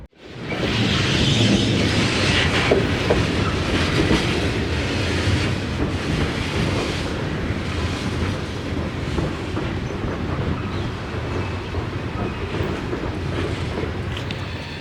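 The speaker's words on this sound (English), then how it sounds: "After running around the train, 3334 comes back to the front of the coal dock, and then heads back in." An SD40-2 diesel locomotive rumbles steadily with coal cars clanking and rolling past at a coal dock, a loud continuous drone with wind buffeting the microphone.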